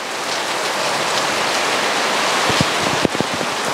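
Steady rain patters on potted plants outdoors, a dense continuous hiss with a few closer, louder drips landing near the end.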